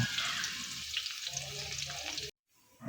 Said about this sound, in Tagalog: Nagsangkot siya ng bawang